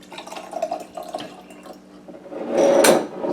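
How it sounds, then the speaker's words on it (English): Water poured into a container of pea, bean and sesame seeds and swished around, with soft drips and liquid sloshing building to a louder, fuller pour near the end. "And then we're going to add our water."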